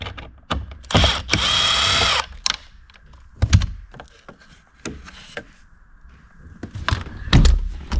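A cordless power drill spins out Torx screws on a Corvette C5 in a few short whirring bursts, with clunks and clicks between them.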